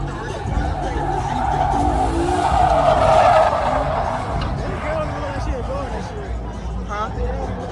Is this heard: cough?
no